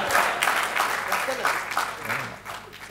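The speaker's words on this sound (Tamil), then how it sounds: "இந்தம்மாவும் கைத்தட்டி சிரிக்குது" An audience at a Tamil debate show claps, a spread of applause rising and falling in bursts and mixed with laughter and a speaking voice over it.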